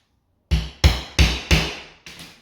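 A hammer strikes a center punch to mark drill holes for mounting an electric radiator. Five sharp metallic taps land close and loud in a quick, even rhythm, the last one softer, with silence beforehand.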